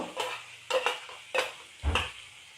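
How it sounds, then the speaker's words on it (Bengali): Marinated mutton is poured into a hot pot and stirred, making a few separate clattering scrapes and bumps against the metal with a soft sizzle underneath, close by and without talk. "মাটনটা পুরো মাটনটাই ওর মধ্যে ঢেলে দিন যেটা আমাদের ম্যারিনেট করা ছিল"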